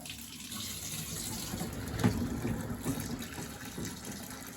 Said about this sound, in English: So I'm gonna turn some hot water on.